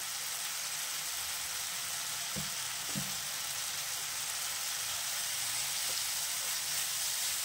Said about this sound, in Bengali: দিয়ে মশলাটাকে একটু ভালো করে কষাবো। এবারে দেবো 1 চামচ জিরে বাটা